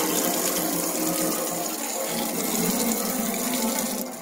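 Water runs steadily from a garden hose tap with a vacuum breaker, a continuous broadband rushing gush that stays even and fairly loud for the whole stretch, with no voices.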